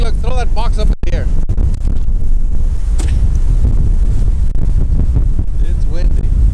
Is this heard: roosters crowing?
no